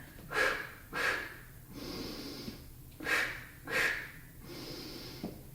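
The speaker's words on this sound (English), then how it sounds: "Here's the Pilates breathing pattern." Pilates breathing exercise: close, audible breaths in a steady rhythm, alternating sharp puffed exhales with longer, softer hissing breaths over several cycles, with no talking.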